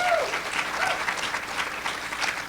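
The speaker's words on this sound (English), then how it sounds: "wild applause for the beautiful centerpieces" Audience at a Leadership Kitsap awards event applauds the centerpieces, a steady, full round of clapping from a crowd, sustained evenly across the moment with a faint voice near the start.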